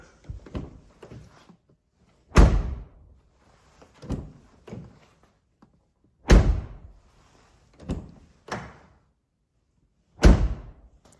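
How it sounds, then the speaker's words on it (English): A Ford Explorer car door shut six times, each a solid, fairly loud thunk with a short rattle, separated by brief pauses of near silence and no voices. "I feel like this door almost immediately tries to shut by itself"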